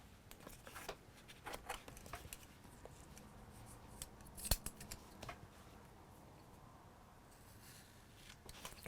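Scissors snip adhesive sanding tape off a strip stuck down on foam for a homemade sanding pad, giving faint close-up cuts and light rustling with one sharper click.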